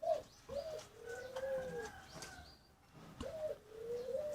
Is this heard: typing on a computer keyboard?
no